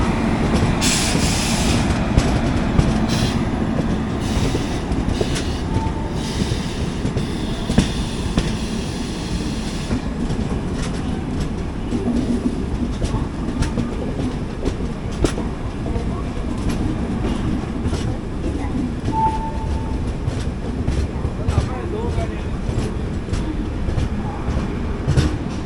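The Humsafar Express (20923 Tirunelveli–Gandhidham) rolls into Madgaon Junction with a steady, loud rumble heard from onboard, with wheel clatter, occasional sharp clicks and brief squeals over the running noise.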